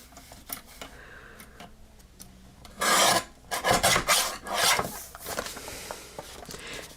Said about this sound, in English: I'm going to trim off this edge here.